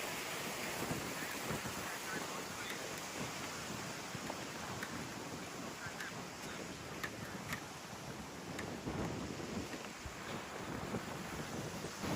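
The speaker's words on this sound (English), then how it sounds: "As you can see, it's a little windy" Steady, heavy wind buffeting the microphone outdoors on the May River in Bluffton, South Carolina, a continuous roaring rush with occasional gusts and faint sounds of waves.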